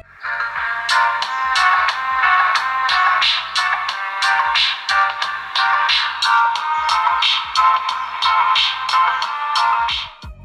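A cheap Android phone with 512 MB RAM plays music through its built-in speaker: continuous tinny, bright melody with rapid plucked notes, loud and close, no voices.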